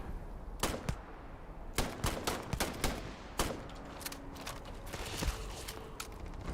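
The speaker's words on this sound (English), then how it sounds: "these guys have been taking pot shots at us" Gunfire in the video game Starfield: scattered sharp shots ring out at irregular intervals, some in quick clusters and others isolated, at moderate loudness over a low background rumble.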